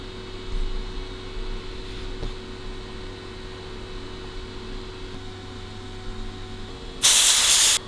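Compressed air blasts loudly through the primary jets of a Lincoln carburettor in one steady hissing burst near the end, following several seconds of low humming workshop background with no talk.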